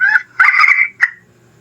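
Loud turkey-like gobbling bird calls in three bursts, harsh and slightly distorted, played through an amplifier speaker used to catch birds, with brief silences between.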